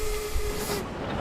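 A model train rumbles by on a layout scene with a farmer and tractor, giving a steady mechanical hum and hiss with a faint tonal whine that cuts off partway through.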